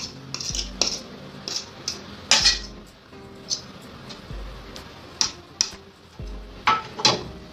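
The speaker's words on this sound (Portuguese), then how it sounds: "Vou utilizar um garfo, mas pode ser também com a ponta dos dedos." A fork works butter into flour for pastry dough, giving irregular metallic taps and scrapes against a bowl, close and separated by short quiet gaps.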